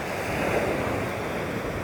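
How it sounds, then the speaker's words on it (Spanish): Sea waves break on the shore in a steady, continuous wash of surf with no pauses or distinct peaks, fairly close and full, with no voices. "Este silencio del mar. Tan bonito."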